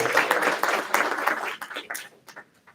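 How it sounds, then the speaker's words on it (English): A round of applause from a crowd at a school grand opening and ribbon-cutting ceremony, fairly loud and bunched at first, then thinning into scattered claps that fade away within a few seconds. "Would you give a nice round of applause?"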